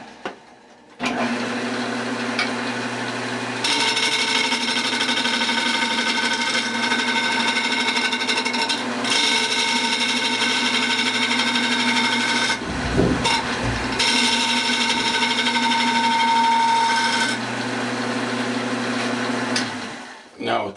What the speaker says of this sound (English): First thing we're going to do is turn this surface flat.